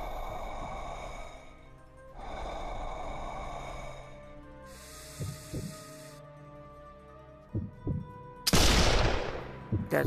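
Rifle shots in the sniper video game Sniper Elite, several sharp, brief reports scattered over a low droning hum, the last a louder, longer blast.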